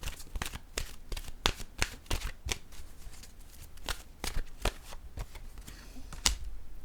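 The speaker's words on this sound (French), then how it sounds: "Je vais maintenant piger une carte de mon oracle de l'âme intuitive." An oracle card deck is shuffled by hand and a card drawn, a brisk run of sharp riffling slaps and flicks close by, with no voices.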